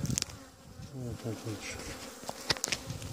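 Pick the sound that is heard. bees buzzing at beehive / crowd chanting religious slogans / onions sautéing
bees buzzing at beehive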